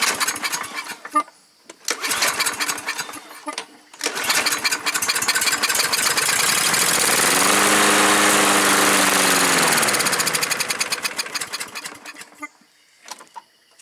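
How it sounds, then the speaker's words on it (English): A Husqvarna LC221A AWD push mower is cranked with starting fluid: bursts of pull-start cranking, then the small engine briefly catches and runs loudly for several seconds before winding down and dying, followed by a few more rattles. "Let's give it a shot of some starting fluid and see if it'll fire up on this."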